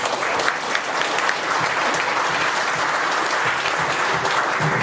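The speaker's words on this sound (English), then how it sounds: "Let's give them all a round of applause" Dense, sustained clapping from an audience at a company safety celebration, loud and continuous for several seconds with no voices over it.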